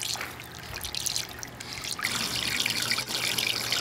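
Water trickles and flows steadily through a fine gold recovery bowl, carrying light black sand up and over the rim. The wash is close and continuous and swells slightly midway through, with no talk.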